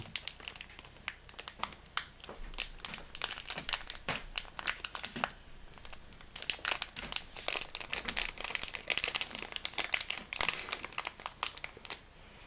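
Plastic bags of Lego pieces crinkle and rustle close by during a Hogwarts Castle build, a dense, irregular stream of crackling bursts that keeps going without pause.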